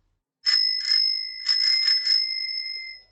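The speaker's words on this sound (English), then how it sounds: "and my bike bell" A bicycle bell used as a foley instrument rings in five bright, clear dings, two spaced apart and then three in quick succession, ringing out alone and close before decaying.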